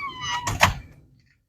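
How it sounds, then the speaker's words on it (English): The back door of a house opens with a creaky, squeaking slide followed by a couple of soft thunks, close and brief, fading quickly into quiet. "somebody didn't lock the back door."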